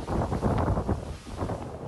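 Wind at sea during a traditional sailing race, 15 knots with swells over a metre, roars as steady broadband buffeting against the microphone, continuous and fairly loud, with no voices.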